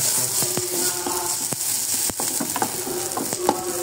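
Something softens while frying in mustard oil, giving a dense, steady sizzling hiss up close. Light pops and taps scatter through it.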